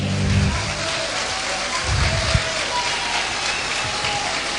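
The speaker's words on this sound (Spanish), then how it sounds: "Un aplauso para mi guitarrista, don Ramón Mendoza." Sustained applause for the guitarist Ramón Mendoza at a cooperative's 50th-anniversary celebration fills the space as a dense, steady wash of clapping, with a brief voice heard beneath it.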